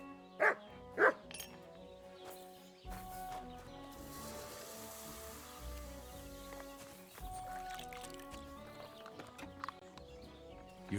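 A dog in the video game Kingdom Come: Deliverance II barks twice sharply near the start, then clip-clopping hooves and game ambience continue with a few fainter sounds later.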